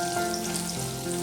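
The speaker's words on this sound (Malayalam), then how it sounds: "അണ്ടിപ്പരിപ്പ് മാത്രം ഒന്ന് ചെറുതായിട്ടൊന്ന് റോസ്റ്റ് ചെയ്തെടുക്കുക" Cashew nuts roast in a pan for carrot payasam, giving a steady, close, moderately quiet sizzle with no talking.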